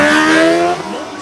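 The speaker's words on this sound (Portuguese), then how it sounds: "Acelera, Dentinho" A Honda motorcycle accelerates during a radical stunt riding show in Artur Nogueira. The engine gives a loud, rising whine that holds and then drops off sharply.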